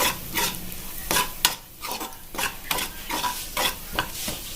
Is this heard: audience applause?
no